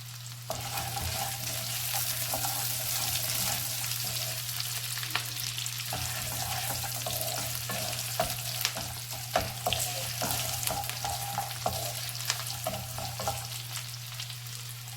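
Cashews and curry leaves frying in ghee give a continuous close sizzle with crackling pops and occasional stirring, under a steady low hum throughout.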